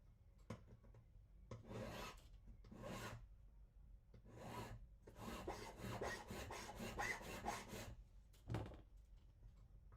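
Rasping strokes of a file across the back of an Irish slate pendant, in short separated bursts and then a quick run of back-and-forth strokes, close and fairly quiet.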